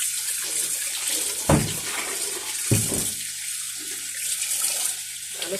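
Hot water runs steadily from a tap into a sink, a close, continuous rushing splash with a couple of brief louder gushes as the flow is disturbed, with no talking.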